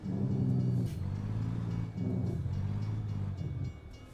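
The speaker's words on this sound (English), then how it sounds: "Another train?" Freight train rolling past a truck hauling doubles at a crossing, a steady low rumble of rail cars with rhythmic clanking, loud and continuous throughout with slight dips as cars go by, heard from inside the cab.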